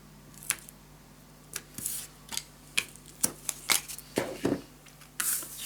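Scissors snipping the corners of paper for a scrapbook mini album, a series of crisp close cuts in irregular rhythm, growing quicker toward the end.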